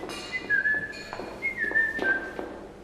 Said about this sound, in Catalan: No xiulis quan puges per l'escala.